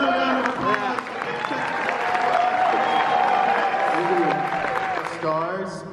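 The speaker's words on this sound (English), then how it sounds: "So let's give another round of applause." Theatre audience at a horror host's screening of My Bloody Valentine at the Texas Theatre applauds loudly and steadily for several seconds, dense crowd clapping with some cheering, a sustained tone running through it and voices mixed in near the end.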